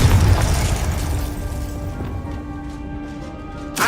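The Confringo fire spell explodes in the Hogwarts Legacy video game with a loud boom at the start that rumbles and fades into a decaying tail, and a short sharp burst right at the end.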